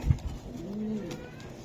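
A racing pigeon gives a single soft, rolling coo close by, rising and falling over about a second, with a brief flutter just before and otherwise quiet surroundings.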